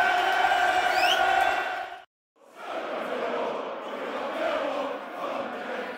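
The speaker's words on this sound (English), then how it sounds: "That's brought the crowd into play." A football stadium crowd at Millwall against Leicester City roars after a goal, loud and sustained, breaking off briefly before swelling again into broad cheering and chanting.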